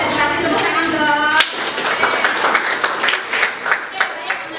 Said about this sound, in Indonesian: semuanya konsentrasi, tepuk tangan dong